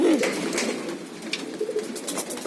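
Soft, low coos of racing pigeons repeat a few times against a faint background hiss, with no talking.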